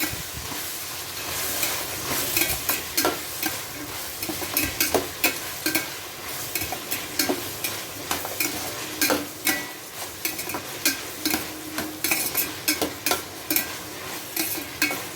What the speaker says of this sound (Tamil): நல்லா வதங்கி வரட்டும் நல்லா வதங்கணும்